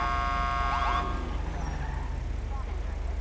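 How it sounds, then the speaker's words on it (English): A police car siren in GTA 5 with the LSPDFR mod lets out a brief rising, wailing sweep that quickly fades, leaving a steady low engine-like hum underneath. "Press J, your sirens will go off."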